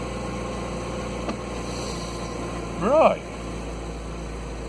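A Dacia engine with a freshly swapped carburettor ticks over with the choke on at about 1500 rpm, a steady low hum throughout, with a brief spoken word partway through.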